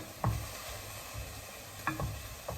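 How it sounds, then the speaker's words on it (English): Capsicum and green beans are stir-fried in a pan for a tofu and mixed vegetable dish, with a soft sizzle under several scraping stirs of the utensil at close range. "So we're just stirring. This is the capsicum and the green beans."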